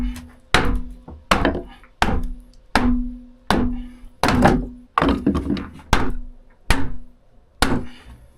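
Loose nailed wooden wall boards in a smoke-damaged basement walkout entry take eleven steady, evenly spaced heavy thunks, each a hollow knock that rings out briefly before the next, close and loud.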